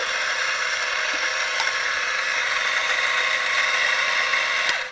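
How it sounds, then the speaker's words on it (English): An espresso coffee grinder runs continuously, purging leftover grounds from the chute, a loud steady whirring hum that holds level before cutting off at the very end, with no one talking. "I need to grind the grinds in the chute through."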